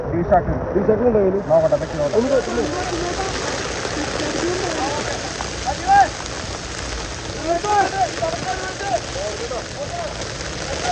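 Steady rain patters on surfaces in a continuous wash in Vagamon, with a voice talking over it and a Mitsubishi Pajero engine idling underneath amid mud and water.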